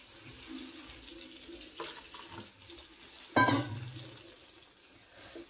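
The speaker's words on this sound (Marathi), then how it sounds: "पाणी टाकते थोडं." A little water poured into simmering dal with green chillies gives a sudden splash and short burst of sizzling, after faint background kitchen noise.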